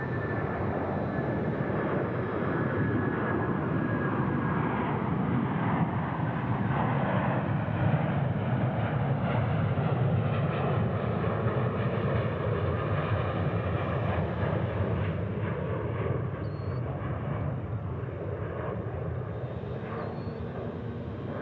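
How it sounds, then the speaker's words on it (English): An American Airlines heavy jet departs a busy international airport, its engines a broad, sustained roar that stays strong and steady throughout, heard from a distance with no voices. "American 281 Heavy comes out departure"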